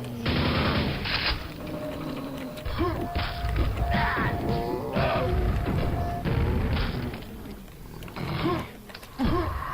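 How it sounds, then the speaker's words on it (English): Dense, continuous game audio from Quake during a grenade jump, with repeated booming blasts, thuds and crashes layered over a constant roar, and a voice talking underneath. "that's a pretty hard grenade jump"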